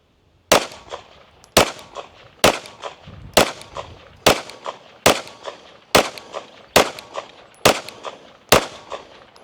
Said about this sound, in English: Let's shoot a 10-shot group at that bottom left.